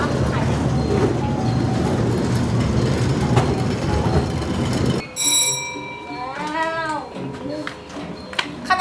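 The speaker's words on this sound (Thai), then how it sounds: "โดยการนั่งรถรางขึ้นมา" An electric tram climbs a mountain road up Khao Taphao in Thailand, giving a continuous rumbling ride noise that drops away midway, after which voices and other sounds take over.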